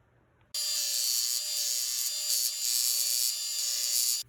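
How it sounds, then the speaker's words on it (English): A bench sander runs loud and steady against a Big Leaf Maple wooden bowl, a continuous bright whirring rasp that starts abruptly and stops after about four seconds. "So final step out here in the shop, I need to go over to my bench sander."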